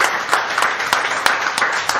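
Steady applause from an audience at a live whisky podcast recording celebrating ten years of single cask bottlings, with dense continuous clapping and a few sharper claps standing out.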